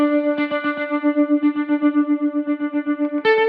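An electric guitar plays through a Kemper Profiler with delay and tremolo. A sustained clean note throbs steadily in fast rhythmic pulses, with a few picked attacks, and a new chord is struck near the end. No talk is heard.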